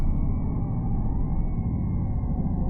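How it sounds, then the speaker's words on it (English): A video game air raid siren holds a steady, droning wail over a heavy low rumble, loud and continuous throughout with no talking. "I don't like the sound of what sounds like air horns. Like air raid siren."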